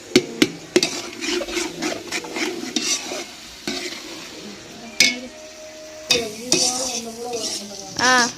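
Ginger and garlic sautéing in oil in a pot for Dindigul country-chicken biryani, a soft continuous sizzle punctuated by repeated spoon scrapes and sharp metallic clanks against the vessel.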